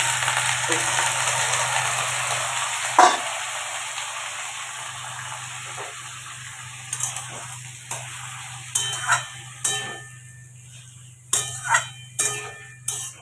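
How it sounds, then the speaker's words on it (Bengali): Potato and onion frying in hot oil with nigella seeds make a steady, fairly loud sizzle with a constant hiss throughout, broken by a few stirring clatters toward the end. "এবার এই যে আলু পেঁয়াজ ঠাকুমা কেটে রেখেছিল এই আলু পেঁয়াজটাকে দিয়ে দেবো তেল গরম হয়ে গেছে অলরেডি"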